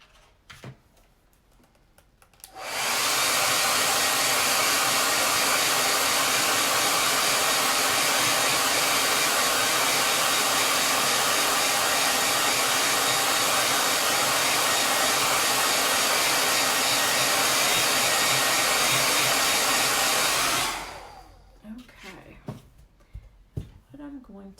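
Hair dryer blowing on wet paint on a painted pot, switching on after a brief quiet start and running as a loud, even whir for about eighteen seconds before cutting off.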